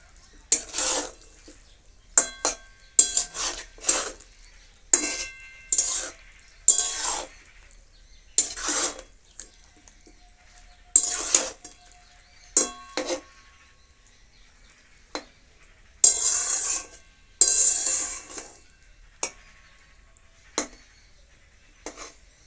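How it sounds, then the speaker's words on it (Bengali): Eggplant pieces stirred in a pan for a Bengali eggplant and onion-stalk piyaji: a run of brief scraping, clattering strokes with quiet gaps between them, close by and moderately loud, with no talking. "এবার এতে আমি বেগুনগুলো দিয়ে দিচ্ছি নেড়ে দেবো ভালো করে"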